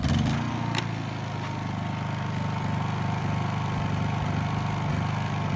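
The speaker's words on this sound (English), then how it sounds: "We'll turn the Honda EU2000 on." Honda EU2000i inverter generator starting up and then running steadily nearby, a low, even engine hum with a faint mechanical buzz and no voices.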